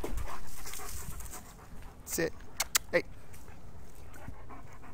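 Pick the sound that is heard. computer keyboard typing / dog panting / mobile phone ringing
dog panting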